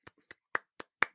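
Five sharp hand claps at an uneven pace, close and fairly quiet, with a faint softer tap between the first two.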